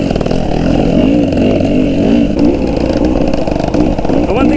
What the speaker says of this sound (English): The one thing you'll notice as you're kind of watching Miss Georgia ride along here is she maintains pretty much the same rate of travel everywhere she goes.